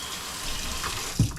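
A kitchen tap runs in a steady hiss of flowing water while bread dough is being made by hand, ending with a brief splash or thump near the close.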